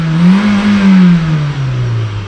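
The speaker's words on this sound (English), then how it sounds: "Let's give her one last little exhaust rip here." Volkswagen Vento with a 1.8 engine, exhaust revved in one loud close rip that rises, holds and then settles back toward idle.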